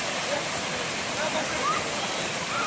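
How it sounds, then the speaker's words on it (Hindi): Mountain waterfall at Harishankar on Gandhamardan hill, a loud, constant rushing roar of falling water that fills the whole stretch without a break. "पहाड़ पर झरना"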